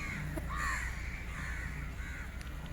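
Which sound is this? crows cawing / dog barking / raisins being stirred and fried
crows cawing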